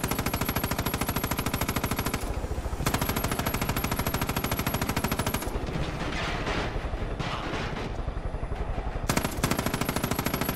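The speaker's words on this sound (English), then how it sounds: "let me shoot this guy over here" Dense, loud automatic gunfire rattles almost without pause in the video game Far Cry 5, with a brief lull of scattered shots and crashes before the rapid bursts return.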